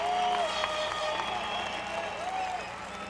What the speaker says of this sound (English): the crowd comes to its feet here, proud of the pressure, and listen to the noise in a scoreless first period